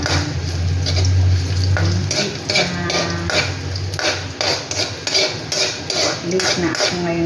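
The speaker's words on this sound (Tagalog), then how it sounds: "Ating antayin ang bawang ay maging konting brown siya." Garlic frying in a pan while a utensil stirs it, sharp repeated scrapes and clinks of metal against the pan over a constant sizzle, loud and close, with a voice briefly heard near the start.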